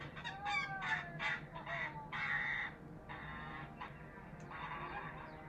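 A pet goose on a farm honks repeatedly in short, loud bursts as it rushes toward its returning owner, the calls rising and falling in an excited, uneven sequence with faint outdoor background noise.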